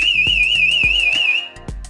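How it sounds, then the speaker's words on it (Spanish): Door-sensor security alarm sounding a steady, warbling high electronic tone, with rhythmic clicks or thumps beneath it and a brief dip near the end. "Tenemos otro ubicado en la puerta, que cuando el panel de control está armado, hará sonar una alarma"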